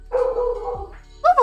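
A dog gives a short, close whining bark and a quick yip, answering a person's voice imitating woofs.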